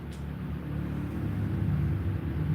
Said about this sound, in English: Just had a loud car go by or a motorcycle